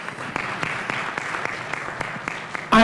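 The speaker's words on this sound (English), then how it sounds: "I just think they needed a round of applause." A board of education meeting audience gives a round of applause, steady crowd clapping filling the room until a voice cuts in abruptly at the very end.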